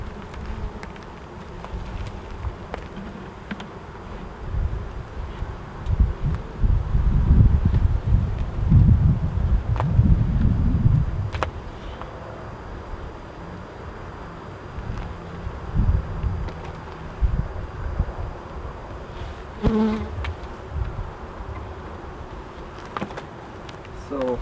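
A steady, droning buzz of many honey bees at a hive feeder fills the scene, swelling louder midway, with faint rustling and wind in the background.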